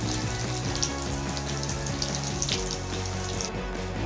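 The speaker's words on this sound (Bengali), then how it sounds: "চিজ বলগুলোকে উল্টে পাল্টে লাল লাল করে ভেজে নেবো" Cheese-stuffed potato balls for pakora fry in oil over a low flame, giving a loud, steady, unbroken sizzle that fills the whole stretch with no one speaking.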